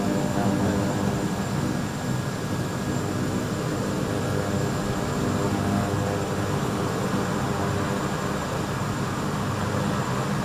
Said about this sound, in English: I'll just taxi out to the runway